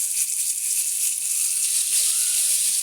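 Sea fish frying in hot oil in a wok, producing a continuous, even hissing sizzle with no talk over it.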